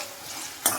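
Potato pieces cooking with salt and a little water in a pan on a gas stove for poha, a soft steady sizzle ending in a brief sharp stir.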